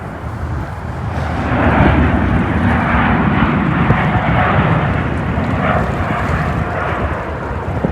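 Airplane passing low over a beach beside Sydney airport, a loud sustained jet roar that swells and holds close overhead with broadband rumble, no voices.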